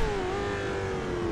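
A vintage race prototype car in the Assetto Corsa racing game, fitted with a four-speed gearbox, holds a steady engine drone at fairly constant revs, loud and continuous with no talk.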